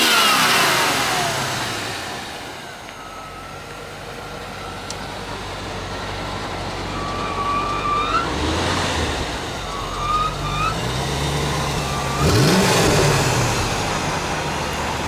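A 1996 Chevrolet Corvette LT1 V8 engine, in good condition, is revved several times. Each throttle blip rises and falls in pitch over a steady idle, close and loud.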